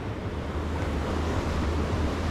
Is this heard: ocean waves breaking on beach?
yes